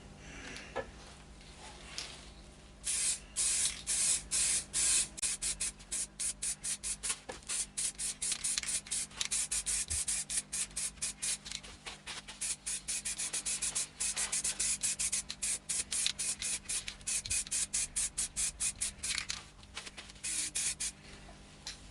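Spray lacquer hisses onto a turned Idigbo and resin bowl in a long series of rapid, sputtering bursts, steady and close, starting after a brief quiet moment and continuing to the end.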